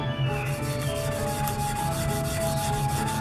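Fine 240-grit sandpaper rubs across a surface in quick, steady back-and-forth strokes. The scratchy rasping is close and continuous and is heard alone.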